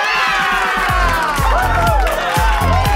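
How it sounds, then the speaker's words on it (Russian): A studio audience cheers and claps after a correct answer on a quiz show, loud and crowded, with high shouted voices and whoops sweeping over thumping low bumps and scattered claps. "Это браво, это аплодисменты."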